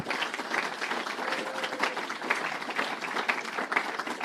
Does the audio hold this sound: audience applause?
yes